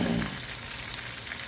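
Deer steaks frying in a pan on a gas stove give a steady, close sizzle and crackle that runs the whole time, with no talk over it.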